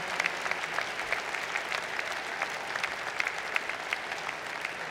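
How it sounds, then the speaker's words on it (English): Applause from the audience at an engineering school's graduate commencement ceremony for the commencement marshals, a steady, full patter of many hands clapping that continues evenly without talk. "Please give them all a round of applause for the work they do for our students"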